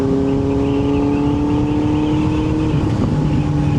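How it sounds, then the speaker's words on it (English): Steady, loud engine drone from a Benelli 600 motorcycle with a throaty exhaust note holding a constant rumble throughout, no voices. "they'd get pretty sick and tired of hearing this exhaust"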